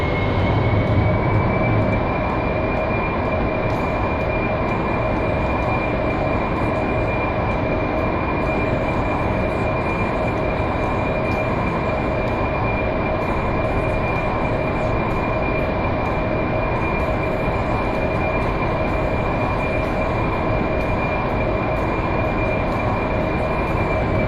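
An AV-8B Harrier jet engine in the DCS flight simulator game powers up, a steady dense roar with a constant high whine that holds loud and unchanging throughout, with no talking.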